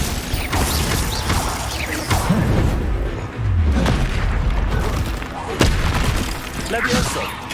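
Glacius freezing spell cast in Hogwarts Legacy, a loud burst of crackling, whooshing magic effects mixed with clanking game sounds and thumps, layered over other combat noise.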